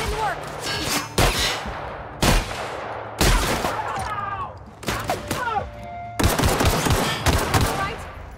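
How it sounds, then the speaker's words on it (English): Shotgun blasts in the video game The Outer Worlds, about six loud, sharp shots spaced irregularly across the stretch, each with a brief ringing tail, with a voice talking between them. "I'll just sit here and bung him in the head with shotgun rounds"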